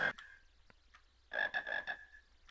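Frogs croaking in the PC game Harry Potter and the Sorcerer's Stone: a sharp croak at the start, a couple of isolated blips, then a quick burst of four or five clustered croaks, with quiet gaps between.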